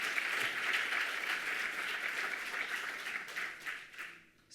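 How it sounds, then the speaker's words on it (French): Audience applause fills a conference hall, steady clapping from many hands that carries on for a few seconds before tapering off at the end. "je pense qu'on peut vous applaudir à nouveau"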